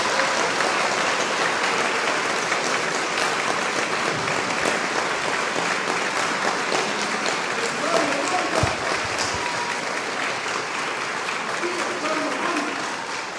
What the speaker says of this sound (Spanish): Este aplauso me llega totalmente al corazón